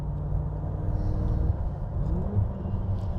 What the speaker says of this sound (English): It's just the right amount of sound from the engine and exhaust system